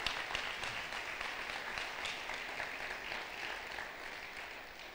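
A congregation at a church service applauding steadily, a dense wash of claps that holds at an even level before slowly thinning out.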